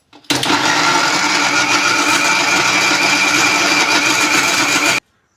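A kitchen mixer grinder whirs steadily for about five seconds grinding a wet masala paste of coriander, spices and water, loud and close, starting and stopping abruptly.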